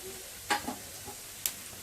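Okra being stir-fried on medium flame, a soft steady sizzle with a couple of sharp scraping clicks of the spatula against the pan, quiet and close.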